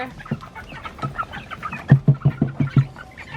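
Backyard chickens cluck close by at feeding time, a run of short rhythmic clucks growing louder and quickening toward the end.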